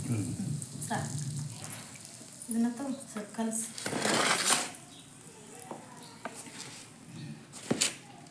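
Bhajji batter frying in hot oil, a steady sizzle and crackle with some stirring and a clink of utensils, under a woman's speech in Kannada.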